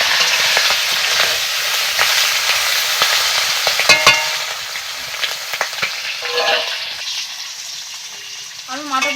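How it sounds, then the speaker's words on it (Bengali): Katla fish heads fry in hot oil in a kadai, crackling and sizzling loudly and steadily, with occasional clinks and scrapes of a utensil stirring, and no voices. "আমি মাথাগুলোকে একসাথে এর মধ্যে দিয়ে দিচ্ছি তেলের মধ্যে।"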